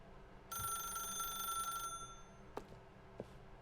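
A telephone rings in the video game The Stanley Parable, a bright electronic trill lasting over a second, then stops, followed by a couple of soft clicks over a quiet background.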